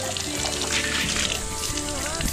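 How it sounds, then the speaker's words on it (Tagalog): A faucet runs strongly into a home basin. The water rushes and splashes in a steady, close, broadband stream with a faint murmur in the background. "Walang problema. Malakas na malakas ang gripo."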